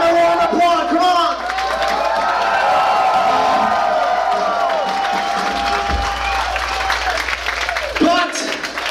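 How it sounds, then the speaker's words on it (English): A concert crowd at a live metal show in Calgary claps and cheers loudly, with whoops rising through sustained applause in a large venue while an amplified voice talks over it. "Give them a round of applause, come on."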